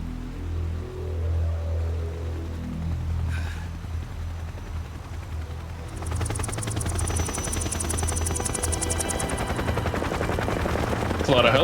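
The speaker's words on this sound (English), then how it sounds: "That's a lot of helicopters." Helicopters from the Metal Gear Solid 3 video game thrum in a steady low rotor drone, joined midway by rapid machine-gun fire layered over it, loud and continuous.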